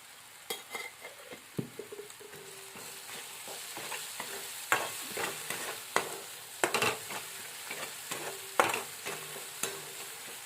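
Vegetables sizzle in hot oil in a pan as they are stirred, with a steady frying hiss broken by repeated spatula scrapes and clacks against the pan throughout.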